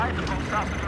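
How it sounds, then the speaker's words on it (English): A helicopter in the vehicle combat game Road 2 Max drones with a steady, loud rotor and engine roar, heard close while a voice briefly exclaims over it. "Yeah, helicopter in front, helicopter in front."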